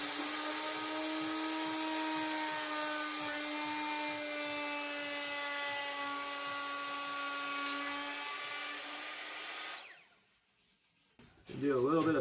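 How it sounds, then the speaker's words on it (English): A router back-mills the edge of a splintery fir bench top for an off-grid cabin, giving a sustained high-pitched whine that holds steady for about ten seconds before cutting off. "do a little bit of back milling"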